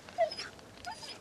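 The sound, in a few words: dogs whimpering nervously at night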